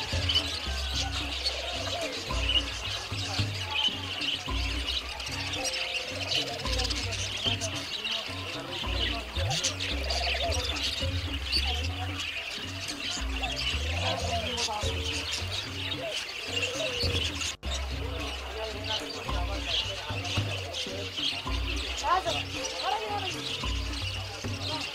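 Birds kept at a bird keeper's home chirp and tweet steadily throughout, with scattered squawks and cooing from pigeons or doves over a continuous background.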